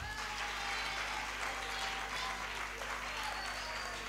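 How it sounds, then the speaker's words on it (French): An audience at a gospel talent audition in Lubumbashi applauds the coaches, with steady, dense clapping that fills the whole stretch at an even, moderate loudness from start to finish. "Applaudissez d'abord pour les coachs."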